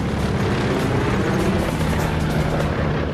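P-51 Mustang fighter plane in flight, its propeller engine a loud, continuous, dense roar with steady low rumble throughout, no speech.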